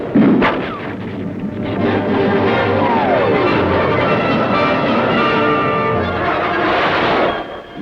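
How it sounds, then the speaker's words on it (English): A 20-millimeter aircraft cannon on a Marine fighter strafing a ground target, heard as a loud, sustained roar of rapid-fire bursts with a jet sweeping past, fairly close and continuous for several seconds. "20-millimeter cannon speaking with authority"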